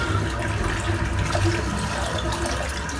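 Water running steadily into a sink during wet shaving with a safety razor, a dense continuous splash and gurgle heard close up and uninterrupted throughout.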